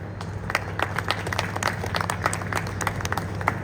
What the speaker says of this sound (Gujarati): એવા ગોવિંદભાઈનું આપણે બધા તાળીઓથી વધારીએ